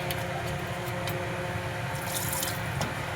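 Running water splashes and pours steadily into a blender jar while making korma, with a few brighter splashes near the end.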